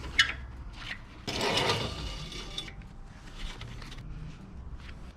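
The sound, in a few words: pulling out camping trailer support leg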